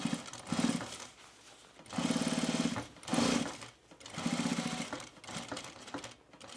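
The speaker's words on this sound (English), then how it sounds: "I'm just gonna stitch right through the top of this pocket" A sewing machine stitches across the top of a lightweight poplin bomber jacket pocket, running in several short bursts of rapid, buzzing needle strokes separated by brief pauses, close and fairly quiet.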